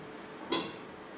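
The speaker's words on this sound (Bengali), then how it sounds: "এখন জলটা ফুটে উঠছে, এখন আমি একটু ঢেকে দেবো।" A lid is set over a cooking pot of boiling water holding taro stems and green chillies, giving a single short clatter that stands out briefly over a quiet background.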